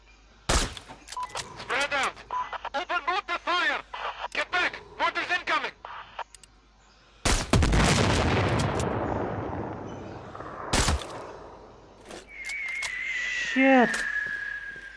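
Gunshots crack in the Sniper Ghost Warrior 3 video game, a loud sharp burst followed by a long rumbling blast, with further shots and a ringing tone later, while a player talks excitedly throughout.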